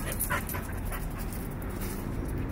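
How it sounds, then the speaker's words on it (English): Dog panting steadily at close range, with faint high whimpers mixed into the rapid breathing throughout the short stretch. "They're pretty good dogs."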